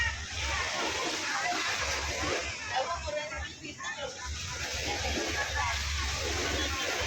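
Broad, steady wash of surf at a beach, constant roar with a slight dip midway, voices and children's chatter mixed faintly into the noise.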